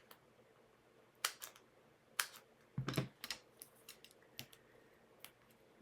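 Scissors cut paper for a handmade card, making a handful of sharp, quiet snips and clicks spaced irregularly over a faint background hiss.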